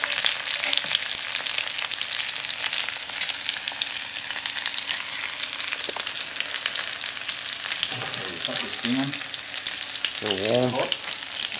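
Onions frying on a survival stove at an outdoor camp: a steady, close crackling sizzle runs throughout, with a brief spoken comment and short bursts of talk near the end.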